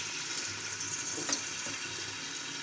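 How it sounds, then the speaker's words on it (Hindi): Grated garlic and ginger frying in a pot for a mutton and pea curry, a loud continuous sizzle with stirring scrapes and one sharp clink partway through. "थोड़ा सा इसको हम फ्राई करेंगे।"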